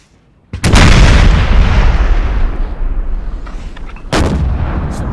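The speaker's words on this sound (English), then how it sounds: "Glorious cannon fire there. I do love cannon fire." Cannon artillery fire in the Napoleon Total War battle game: a loud booming volley bursts out and rumbles on, then a second heavy blast hits near the end, with no talk.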